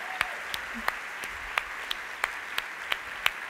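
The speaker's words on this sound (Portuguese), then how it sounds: "Vamos aplaudir meu filho" A church congregation applauds together, a steady wash of clapping with sharp, evenly spaced claps standing out in a regular beat, full and close throughout.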